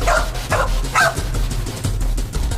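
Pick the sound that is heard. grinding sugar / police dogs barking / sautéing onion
police dogs barking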